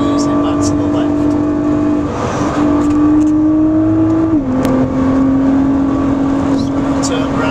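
Nissan GT-R R35 accelerating hard on the Oulton Park track, a loud steady engine note climbing in pitch, then dipping briefly at a gear change before rising again.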